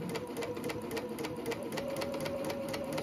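A sewing machine stitching quilt pieces for a beginner flying geese block runs at a slow, calm pace, its needle producing a quick, even rhythmic clatter close by with no talk over it.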